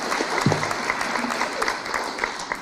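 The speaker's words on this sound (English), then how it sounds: "Let's give him and the town hall folks a big round of applause." Dense audience clapping at a veterans event in a town hall, steady and sustained throughout, moderately loud, with a faint voice briefly under the applause.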